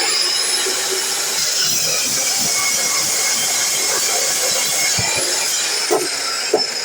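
A DeWalt miter saw cutting a piece gives a loud, close, continuous hissing whine that holds steady for several seconds, with a few small knocks near the end and no speech.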